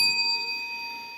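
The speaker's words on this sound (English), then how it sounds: "Ring the bell." A bell rings once with a bright, clear metallic ding that sustains and slowly fades, alone and fairly loud.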